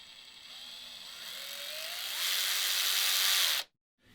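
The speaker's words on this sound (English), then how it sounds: "it's the 12 volt wrench" A Makita 12 volt cordless ratchet wrench whirs steadily for about three and a half seconds, its pitch rising slightly as it speeds up, then cuts off abruptly into silence.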